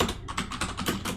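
Rapid clicking keystrokes on a computer keyboard come in a quick, irregular run of close, crisp taps over about a second.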